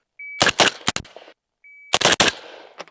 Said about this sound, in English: So this footage is me getting used to shooting the Digi-Trigger.